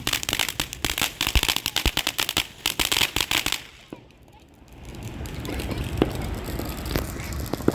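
A backyard firework fountain on the Fourth of July burns with a dense, steady crackling hiss, loud and close, then drops briefly before a softer rushing burn builds again with scattered pops.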